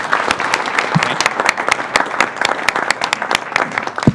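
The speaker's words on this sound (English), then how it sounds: "Round of applause." An audience at a tech presentation event applauds loudly and close, with dense, uneven clapping and a few sharp individual claps continuing for the whole stretch.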